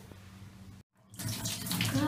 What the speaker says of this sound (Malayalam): വെള്ളം നമ്മൾ ദൂരെ വെച്ച് ഒഴിക്കാതെ ദേഹത്തോട് ചേർത്ത് വെച്ച് വേണം ഒഴിച്ചു കൊടുക്കാനായിട്ട്